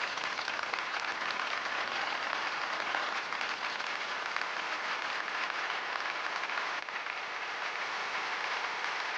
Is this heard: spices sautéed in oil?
no